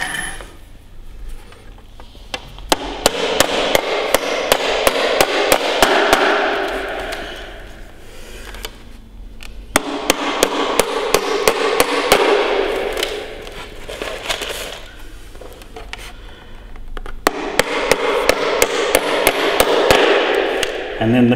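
A hammer drives a nail into a wooden beehive part, sharp close strikes in three quick rapid-fire bursts separated by pauses.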